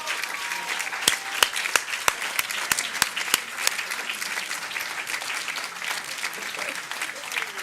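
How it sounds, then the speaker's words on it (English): Sustained audience applause and cheering at a Mars Curiosity rover mission event, dense clapping throughout with a few loud, sharp individual claps standing out near the start. "let's give them one more round of applause now that we've got them all up here"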